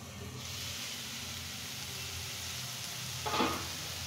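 Cauliflower fries with spices in a pan, a continuous moderate sizzle and hiss close by, briefly rising near the end with a scrape of stirring, with no voices.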